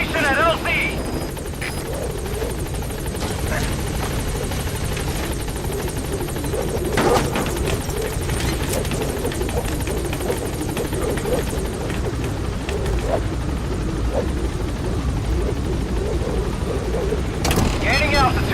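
The Pequod helicopter in Metal Gear Solid V gives off a continuous rotor thrum and engine roar with a few sharp bursts, loud and close, while a voice talks over it for much of the time.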